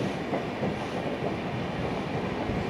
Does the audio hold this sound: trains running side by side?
yes